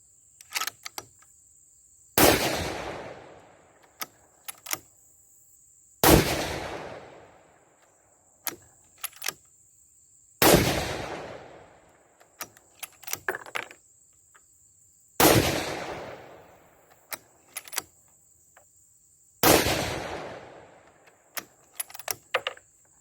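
Five 6.5 Creedmoor rifle shots firing Hornady 140-grain SST loads from a bench with a bipod, each a sharp loud crack with a decaying tail, evenly spaced about four seconds apart, with small clicks and high-pitched insect buzz between.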